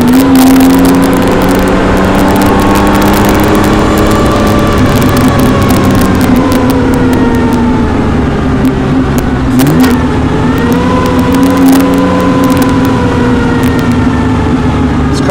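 A 1959 Austin-Healey 3000 engine pulls hard on the road, a loud continuous close-up drone rising in pitch, dipping at a gear change around the middle, then climbing again.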